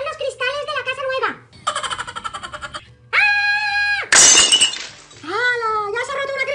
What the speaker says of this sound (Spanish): ¡Ya se ha roto una cristalera, Lola!